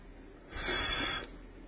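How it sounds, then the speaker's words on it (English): A hot dog sizzles as a motorized Iron Man laser gauntlet hits it, giving a single short, hissing burst under a second long over quiet room background. "Can you hear the sizzling sound?"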